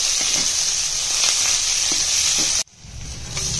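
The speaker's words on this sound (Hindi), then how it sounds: "तेल गरम हो गया उसमें डाल दिए हैं, प्याज को फ्राई कर लेते हैं" Onions sizzle and fry in hot oil, giving a loud, steady hiss close by, with light stirring clatter, before the sizzle cuts out briefly and then resumes.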